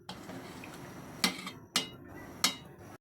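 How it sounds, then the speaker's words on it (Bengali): A metal lid comes off a cooking pot of dried fish curry, giving three sharp clinks spaced about half a second apart over a faint background hiss. "তো ঢাকাটা উঠিয়ে ফেলছি।"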